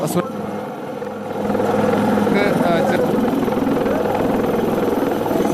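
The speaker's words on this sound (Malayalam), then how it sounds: "വീണ്ടും ഇന്ത്യൻ ആർമിയുടെ ഹെലികോപ്റ്റർ പുറത്തേക്ക് പോവുകയാണ്" An Indian Army helicopter drones loudly and steadily on a rescue mission, its rotor thrum building and holding close overhead, with a voice speaking underneath.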